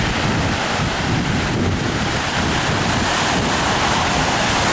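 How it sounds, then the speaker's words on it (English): Rough sea waves roar and churn steadily at a beach on Curaçao, a dense, continuous wash of surf with wind buffeting the microphone throughout. "That's just like a rough water."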